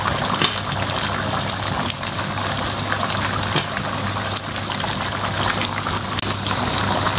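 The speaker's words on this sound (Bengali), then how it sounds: "এই যে মাংস সিদ্ধ হয়ে গেছে দেখেন" Meat for a Peshawari curry simmers in a pot, a dense, steady bubbling and hissing boil heard close and continuous with no talk.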